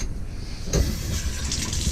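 Tap water forced through a cleaning attachment into a wine bottle: a sudden hissing rush starts partway through and keeps spraying and gurgling steadily, close to the microphone.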